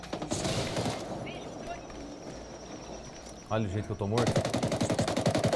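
Gunfire crackles in the video game Ghost Recon, with a burst of rapid automatic shots at the start and a louder, fast string of shots at the end. Someone talks over the middle.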